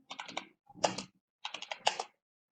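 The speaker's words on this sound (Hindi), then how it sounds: "अब इस पे हम कुछ भी टाइप कर लेते हैं, कोई भी नंबर देते हैं।" Numbers typed on a computer keyboard in two quick bursts of close, crisp key clicks with a short pause between them in a quiet room.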